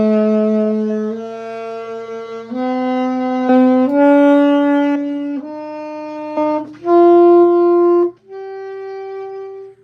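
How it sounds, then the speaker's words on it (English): An E natural minor scale is played one note at a time on a sustained, tonal instrument, with each pitch held for about a second as the line steps up and down. No one talks over it. "That's E natural minor."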